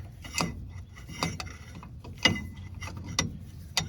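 An inner tie rod is being unscrewed from a rack and pinion steering assembly, giving sparse metallic clicks and ratchet-like ticks at irregular intervals over a quiet, close workshop background.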